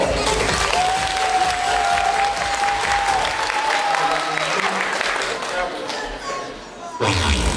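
Loud, steady applause from a concert audience as young dancers take the stage at a year-end school recital, continuing for several seconds and fading before a burst of music.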